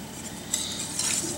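A spoon scraping and swishing through a French toast casserole mixture of bread and egg with vanilla in a bowl, a brief close clink and stir.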